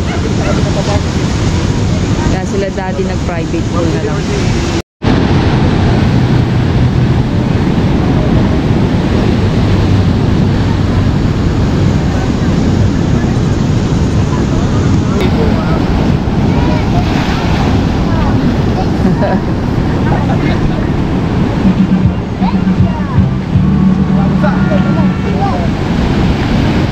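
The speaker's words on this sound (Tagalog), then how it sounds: "Sobrang alon guys." Heavy surf pounds a beach in La Union on Christmas Eve, rough enough that swimming is banned; a constant loud roar of breaking waves and wind buffeting runs throughout, with people talking over it.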